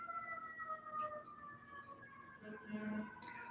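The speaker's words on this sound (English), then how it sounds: "The reason why you guys can hear the sirens is the police station's right next door." Wailing police sirens from a nearby police station rise and fall in the distance, their drawn-out tones sliding over a steady background hum.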